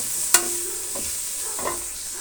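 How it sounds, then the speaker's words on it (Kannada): Chili and turmeric powder fry with shredded cabbage in a pan, giving a soft steady sizzle with a few brief stirring scrapes and clinks, no talking. "ಇಷ್ಟನ್ನು ನಾವು ಫ್ರೈ ಮಾಡೋಣ."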